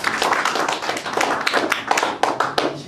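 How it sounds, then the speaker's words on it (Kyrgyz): Audience clapping for the actor playing Zhomart in a stage performance: a dense, steady round of hand claps with sharp individual slaps standing out, sustained for the whole stretch without talk. "Жомартка кол чабып коелу"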